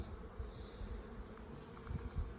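A dense, steady hum of honey bees buzzing around a busy apiary full of hives, with low-pitched wingbeat drone and no voices.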